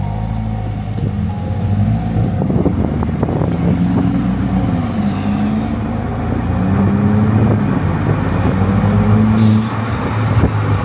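A lowered car's engine intake roars loudly and steadily, its drone rising and falling in pitch as the revs change, with no voices over it.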